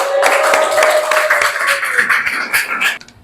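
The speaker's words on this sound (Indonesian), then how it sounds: "Tepuk tangan." A classroom group claps together in a quick, steady rhythm for about three seconds, the claps close and fairly loud before stopping abruptly.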